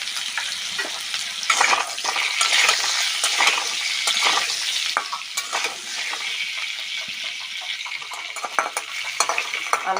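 Potato pieces frying in oil with dried red chilli, bay leaf and nigella seeds, seasoned with salt: continuous close sizzling with a spatula stirring and scraping against the pan throughout, no voices.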